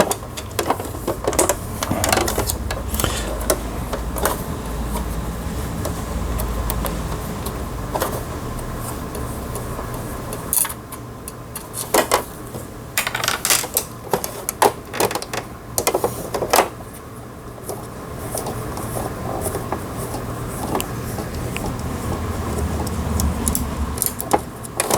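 A sewing machine running steadily at close range, a continuous mechanical whir with intermittent clicks and rattles as it stitches, and no talking over it.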